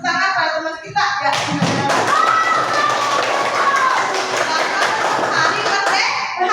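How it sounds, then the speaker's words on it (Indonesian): Children in a classroom applaud a classmate: after a brief spoken prompt, a dense burst of close hand clapping runs steadily with some children's voices and cheers mixed in. "Sekarang kita berikan tepuk tangan pada teman kita ya."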